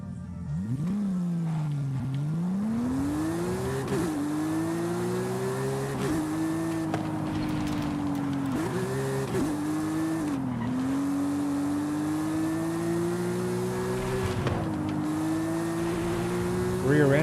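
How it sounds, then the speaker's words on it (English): A rear-engine, rear-wheel-drive car with a high-revving 4-liter flat-six in Forza Horizon 5 roars steadily, its pitch rising and dipping through repeated shifts and throttle changes, loud and close, with occasional tire squeal, under someone talking. "Rear engine, rear wheel drive, big wing for the downforce, high revving 4-liter flat 6, man, can't get any better than that."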